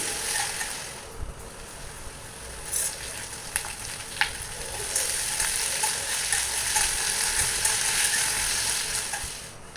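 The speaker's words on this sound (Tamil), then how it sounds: "கட் பண்ண பிரண்டை, கொஞ்சம் கல்லுப்பு இதெல்லாம் சேர்த்து நல்லா வதக்கிக்கணும்." Oil sizzles steadily in a pan as chopped adamant creeper is sautéed with rock salt, with occasional scrapes and clinks of a stirring utensil; no talking.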